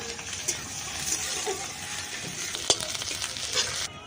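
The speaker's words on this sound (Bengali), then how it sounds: "এটাকে দিয়ে এখন আমি কোড়ার মধ্যে ভালো করে ভেজে নেব" Grated ginger and green chilies frying in a wok, with a continuous close hiss of sizzling oil and occasional stirring scrapes and taps.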